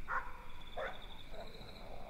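A dog in a horror short film gives three brief yelps and whimpers spaced about half a second apart, moderately close, over a steady high background tone.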